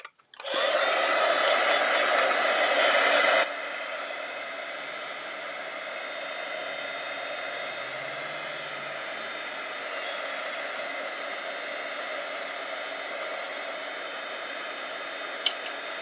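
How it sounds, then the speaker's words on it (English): A heat tool blows hot air onto ink spray on a card, a strong steady whoosh that is loudest for the first few seconds, then continues a little softer for the rest, with no talking. "Grab my heat tool."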